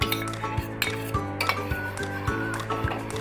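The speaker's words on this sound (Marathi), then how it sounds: "आणि आता आपल्याला हे असंच एकसारखं हलवत राहायचं आहे." A spoon stirs thickening custard mixture in a metal pot, producing regular rhythmic clinks and scrapes against the sides, repeated several times a second, close and clear without speech.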